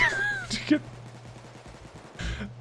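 Gunfire in the heist game Payday 2 comes as a few sharp shots mixed with game effects and a rising tone, with voices talking over the action.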